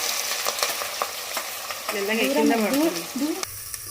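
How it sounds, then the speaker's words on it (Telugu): Onions fry in oil for a mutton curry, a continuous crackling sizzle with scraping stirs, while a brief chirping squeal rises midway over the frying. "చూడండి, ఇది బాగా బ్రౌన్ కలర్లో వచ్చే వరకు ఆనియన్స్ని వేసుకోవాలి."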